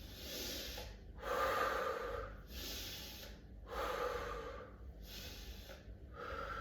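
Heavy rhythmic breathing during a morning wake-up exercise, alternating deep inhales and forceful exhales in a steady cycle, close and loud with no talk.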